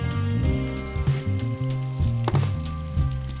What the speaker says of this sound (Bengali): পেঁয়াজটাকে খুব সুন্দর করে ভেজে নিতে হবে, একদম লালচে করে ভেজে নিতে হবে